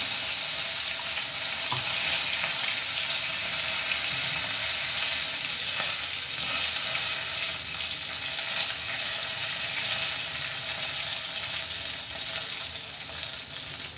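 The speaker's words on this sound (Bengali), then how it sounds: "ফোড়নে দিয়ে দিলাম জিরে তেজপাতা" Cumin seeds and bay leaves sizzle in hot oil for a tempering, a steady bright crackling hiss that holds for the whole stretch with a few faint clinks.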